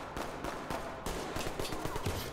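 Rapid bursts of automatic gunfire from the Ready or Not tactical shooter game, dense and loud throughout, with sharp repeated shots layered over one another and no voices.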